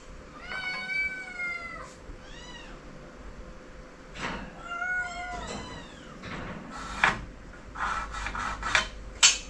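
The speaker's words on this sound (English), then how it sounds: "the cats are going mad, so we're going to have to feed them." Cats meow repeatedly for food at an off-grid woodworking homestead in central Portugal, several close, insistent cries rising and falling over roughly ten seconds, with clinks and rustles in between.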